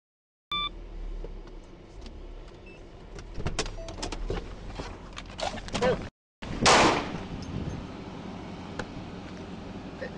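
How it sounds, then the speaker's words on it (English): Gunshots fired during a police confrontation in Cathedral City, a cluster of sharp cracks amid car noise and shouting, followed by a brief dropout and a loud burst. "Shots fired, shots fired."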